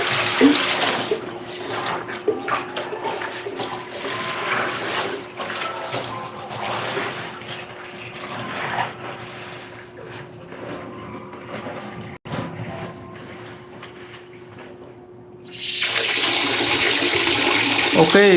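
Water runs and splashes steadily as washed clothes are rinsed by hand, a continuous close gush with sloshing. Near the end a louder, fuller rush of water takes over.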